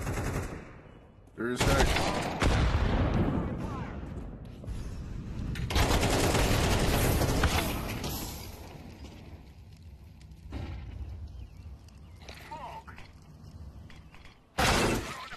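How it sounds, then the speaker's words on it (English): Loud automatic gunfire bursts from a Counter-Strike 2 match hit hard near the start and again at the end, with shorter shots and breaking sounds between them, and a voice speaking briefly. "And I get shot from behind."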